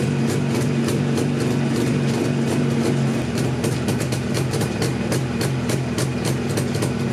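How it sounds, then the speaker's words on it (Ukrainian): A Jawa 350 638 motorcycle engine idles and burbles through new exhaust pipes with rapid, uneven popping pulses, close and continuous, with no talking. "як звучить та сама ява на люксових трубах"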